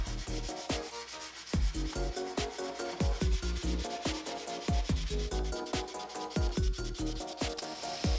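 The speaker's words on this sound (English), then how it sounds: "finished them off by sanding them flush" Repeated rhythmic scraping strokes of sandpaper against wood plugs being sanded flush, close and clear, each pass a rough rasp in a steady back-and-forth pattern.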